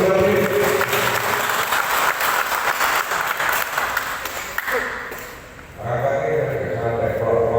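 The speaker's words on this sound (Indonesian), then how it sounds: "Tepuk tangan untuk Pak Ais Bulami." A crowd at a Musrenbang village planning meeting in Desa Simbang applauds for Pak Ais Bulami. The clapping is dense and steady, dips briefly near the end, then rises again, with voices talking over it.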